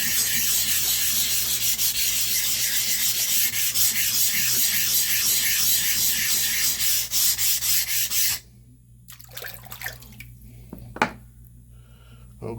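A straight razor is honed on a 400 grit Suehiro whetstone, producing a steady, loud scraping rub of repeated strokes for about eight seconds before it stops, leaving only faint handling noises.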